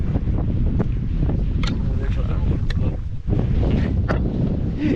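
Steady, heavy wind buffeting the microphone on a pier, a constant low roar with brief gusty swells and a short dip near the middle.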